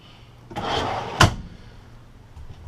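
A very deep drawer under the dinette booth of a 2015 Airstream Flying Cloud 25FB travel trailer slides with a short rumbling run, then shuts with one sharp, close knock before the room goes quiet.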